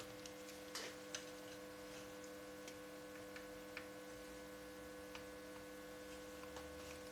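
The cooling fan of an Uralelektro EISA 105 welder runs with a steady electrical hum and faint tonal drone, while small irregular ticks and clicks pop up sporadically over the constant background.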